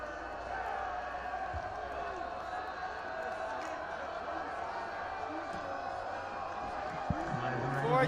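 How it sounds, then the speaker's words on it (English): A high school varsity football crowd in the stands during a fourth-down play, a constant distant roar of many voices that swells louder near the end, with a commentator speaking over it. "Fourth down, this crowd is getting loud."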